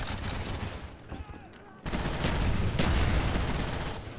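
Light machine gun fire in Call of Duty: Black Ops on the Nuketown map, a sustained, dense burst of automatic shots that grows louder and heavier partway through, with other gunfire and game noise around it.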